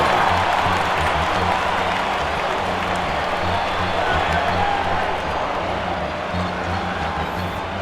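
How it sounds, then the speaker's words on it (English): A ballpark crowd cheering in MLB 2K7 during a Pirates at Indians World Series game, a steady roar of many voices with scattered clapping that holds throughout and eases slightly toward the end. "the fans are still cheering"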